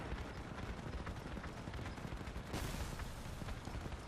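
Dense, continuous gunfire and explosions from the vehicle-combat game Crossout, with machine-gun and heavy weapon fire blending into a steady roar that holds loud throughout, with a brief sharper burst partway through.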